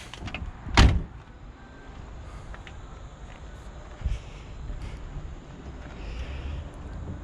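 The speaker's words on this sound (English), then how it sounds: "And shut the door here." A single solid slam of a 1978 Trans Am door near the start, followed by a quieter thump and low ambient noise with faint shuffling.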